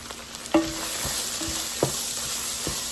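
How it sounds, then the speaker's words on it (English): A spoon stirs self-rising flour as it cooks in a soup pot, giving a few scraping knocks against the pot over a soft, steady sizzle, close and moderately quiet. "We're going to stir it around and let it cook long enough so it is not raw anymore."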